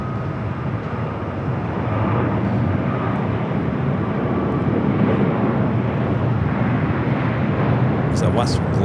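A large Qantas airliner rolling down runway 7 left on the south side at LAX, a steady broad jet roar heard from a distance, loud and continuous, with a voice talking over it.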